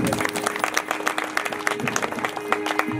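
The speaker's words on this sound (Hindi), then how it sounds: "तो देवी जी के लिए ताली बजा दे" A gathering at a family birthday bhajan session claps for the goddess, a fairly quiet, steady patter of many hands with uneven peaks, continuing throughout.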